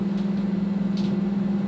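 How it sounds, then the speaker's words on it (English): Steady electric hum of a microwave oven running at full power while heating porridge, a constant low drone with faint fan noise, close and unchanging. "Microwave for 2 minutes on full power."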